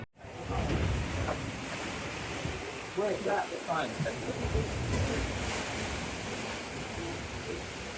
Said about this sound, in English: we lost the sun and we found a squall and a lot of wind